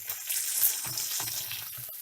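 Curry leaves and chopped onion fry in hot oil for a Kerala-style beetroot thoran, a close, bright continuous sizzle with a few soft crackles and stirring clinks.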